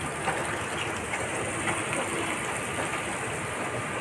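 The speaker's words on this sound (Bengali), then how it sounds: "এরকম ঝড় বৃষ্টি হচ্ছে।" Steady, dense rush of heavy rain and wind from Cyclone Remal, recorded outdoors at a workplace, a constant broadband roar without pauses and no one talking.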